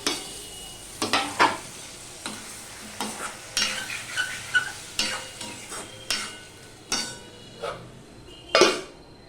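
Tomato and green chili added to a pan of fried onion and ginger for a broccoli curry, with a soft sizzle under repeated sharp scraping and clinking of a spatula against the pan, close and alone.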